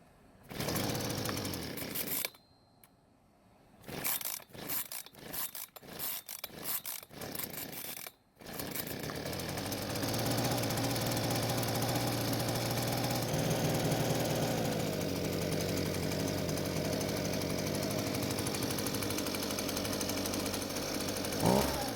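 A Husqvarna leaf blower that will not stay running sputters through several choked start attempts with brief gaps. It then catches into a loud, continuous engine drone that wavers and bogs under quick throttle squeezes.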